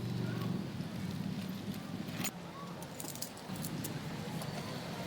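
Keys jangling as a key is handed over indoors, a loose metallic rattle with brief bright clinks against a noisy background.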